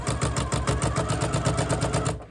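A sewing machine fitted with a walking foot stitches quilt binding through thick fabric layers, running with a loud, fast, even mechanical rhythm close by before stopping abruptly.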